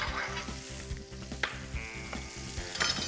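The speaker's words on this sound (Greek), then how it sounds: "Ρίχνουμε μέσα στο σοτάρισμα του κρέατος μία σκελίδα σκόρδο" Beef sautéing with a clove of garlic in a pan sizzles steadily and loudly, with occasional clatter of stirring against the pan.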